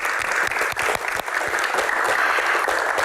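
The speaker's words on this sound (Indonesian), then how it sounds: "tepuk tangan untuk teman-teman panelis sekali lagi" Audience applause fills the room after a Q&A session with Sujiwo Tejo, a dense, steady wash of many hands clapping at close range for about three seconds.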